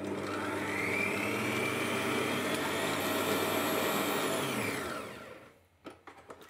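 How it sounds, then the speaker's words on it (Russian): An electric hand mixer whips egg whites with a pinch of salt for a classic sponge cake, a loud steady whirring motor that runs evenly, then winds down and stops near the end, leaving a few faint clinks. "взбиваю белки сразу без сахара до легкой пышной пены"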